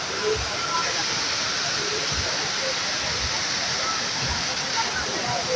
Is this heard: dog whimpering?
no